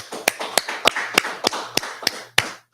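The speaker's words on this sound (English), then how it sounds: "let's clap it up" A group of people clap together in a steady, even rhythm, about nine sharp, close claps in under three seconds with no talking, ahead of a street preaching gathering.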